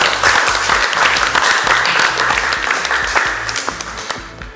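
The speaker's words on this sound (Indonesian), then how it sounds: "Kita beri tepuk tangan." A church quiz-show audience claps loudly for the winning team, dense applause with music thumping underneath before the clapping thins into scattered final claps.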